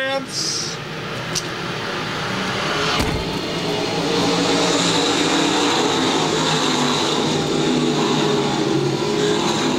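Stock cars race on a Friday night at Lakeside Speedway, their engines roaring in a loud, continuous drone that swells as the pack passes. A voice talks over the engine noise.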